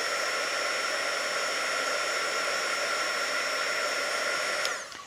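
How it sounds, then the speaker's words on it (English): A hair dryer blows steadily at close range to clear away hot glue strings, giving an even, loud airy whoosh that cuts off in the final half second; no talking. "you can use a hairdryer, and you can quickly just take those hot glue gun strings away."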